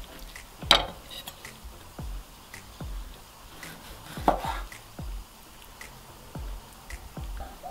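A knife chops firmly down through fish on a cutting board in a series of separate strokes, with a couple of louder cuts and soft wet handling between.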